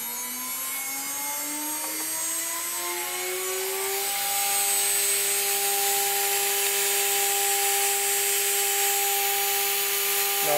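A Chinese 2.2 kW water-cooled spindle driven by a Hitachi X200 VFD spins up counterclockwise, its whine rising steadily in pitch over several seconds and then holding at a high, steady tone, loud and alone.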